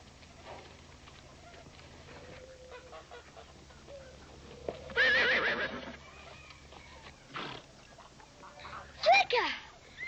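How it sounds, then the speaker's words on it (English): A horse neighs with a sharp whinny near the middle and another toward the end, rising above quiet outdoor background from a TV western about a horse. "We're after my horse, Flicka."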